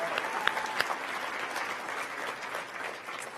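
An audience at the Profile in Courage Award Ceremony gives steady, soft applause with faint cheering, a continuous wash of many hands heard from a distance with no speech over it.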